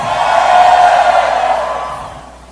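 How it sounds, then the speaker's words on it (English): A large conference audience cheering and whooping for Apple, a loud sustained roar of many voices that swells and then fades away toward the end. "they cheer for Apple"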